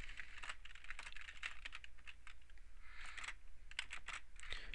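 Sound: typing a telnet command on a computer keyboard

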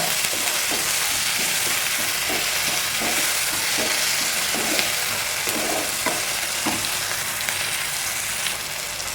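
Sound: tomatoes sautéing in a pan for fish biryani

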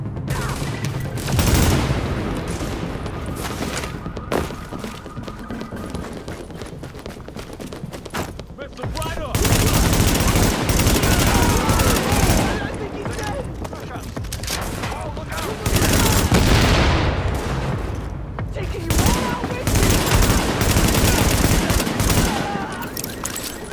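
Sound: gunfire in the video game Tom Clancy's The Division

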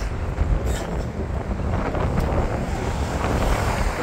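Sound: strong wind blowing on a bridge

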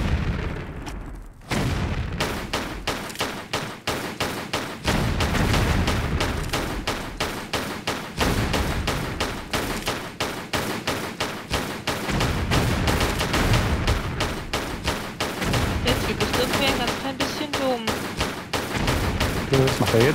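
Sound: pistol gunshots in Tomb Raider: The Last Revelation video game

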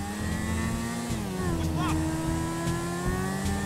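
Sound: car chasing a limo in Grand Theft Auto 5 video game

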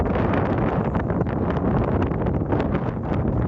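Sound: wind blowing outdoors

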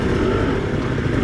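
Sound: motorcycle revving on a wet track

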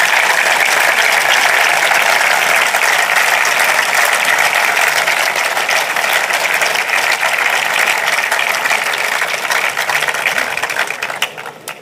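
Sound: audience applause at political rally

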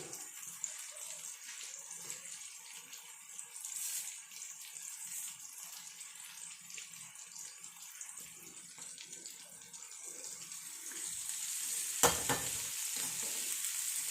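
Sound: curry leaves added to sizzling fish curry

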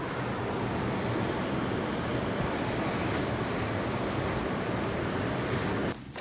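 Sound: sea waves

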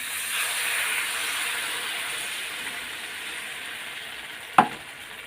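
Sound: water added to frying fish-roe curry, sizzling

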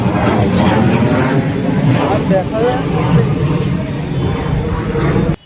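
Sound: airplane flying overhead

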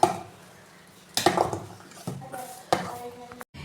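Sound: spoon mixing a shake with soaked fruit, dates and nuts

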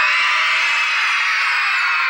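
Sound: children in audience shouting loudly

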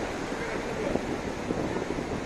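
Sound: rough sea waves at Kappad beach

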